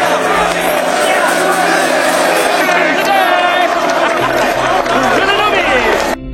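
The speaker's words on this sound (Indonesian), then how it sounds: "Andy pun berserta rombongan langsung disambut dengan teriakan, tepuk tangan, dan ledekan dari narapidana yang ada di sana" Prison inmates yell, whoop and jeer at new arrivals in a loud, continuous crowd roar with shouted voices layered over it, sustained throughout before cutting off abruptly.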